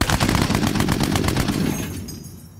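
Machine gun fire from a Lancaster bomber gunner's position, a rapid, loud, evenly spaced burst of shots lasting about two seconds before fading away, with no talk.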